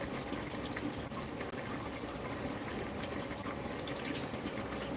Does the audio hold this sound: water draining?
yes